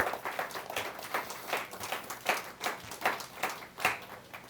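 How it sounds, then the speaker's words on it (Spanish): Church congregation applauding during a Spanish-language service, a rhythmic wash of clapping in loose unison at moderate distance, pulsing steadily for several seconds. "un aplauso para el Señor"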